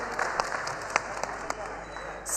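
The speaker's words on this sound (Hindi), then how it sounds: "जोरदार तालियां हो जाए भंवरपाल सिंह जी के लिए।" An audience at a potato farmers' convention claps for Bhanwarpal Singh taking the stage, a steady moderate wash of applause with a few sharper claps standing out nearby and a faint tone running underneath.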